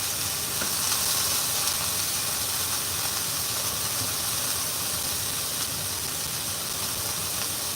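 Maple breakfast sausages frying in a pan, giving a steady, dense, close sizzle that holds at an even loudness throughout, with no talking over it.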